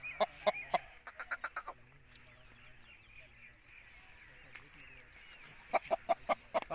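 An Aseel rooster gives sharp clucks in quick bursts near the start and again at the end, with quieter stretches between; someone talks over the scene.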